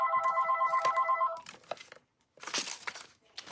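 A telephone rings with a rapid electronic trill for over a second, then stops, followed by crinkling and rustling while someone searches for the phone.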